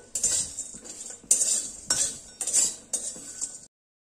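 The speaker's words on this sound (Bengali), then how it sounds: "খেয়াল রাখতে হবে মশলাগুলো যেন পোড়া না লাগে, তাই এগুলোকে একটু নাড়তে থাকতে হবে।" Spices dry-roasting in a pan while a metal spoon stirs them, giving sharp clinks and scrapes in short bursts about every half second, close by with only a faint sizzle.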